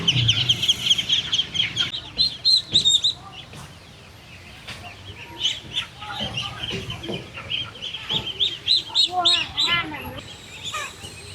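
Chickens cluck and squawk repeatedly at a traditional Vietnamese market in northern Vietnam along the Red River, with shrill bursts rising over a busy background of scattered clatter.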